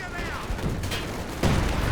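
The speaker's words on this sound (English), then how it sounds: "Major artillery out the back." Artillery barrage in the Company of Heroes 2 strategy game, with a few muffled booming shell impacts over a rumbling battlefield bed, the heaviest blast landing near the end, while a commentator's voice can be heard faintly underneath.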